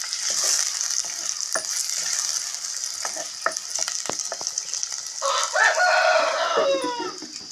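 Sliced onions sizzle steadily in hot oil in a pan for an Andhra-style chicken and raw cashew curry, a constant bright crackle with scattered spoon clinks and stirring scrapes. A rooster-like squeal rises briefly near the end.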